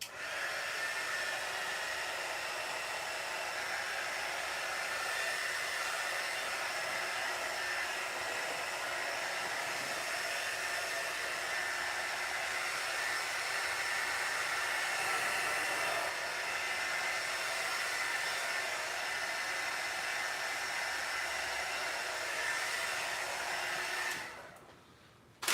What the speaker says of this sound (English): I'm gonna give it one more heat shot before I start copying my drawing.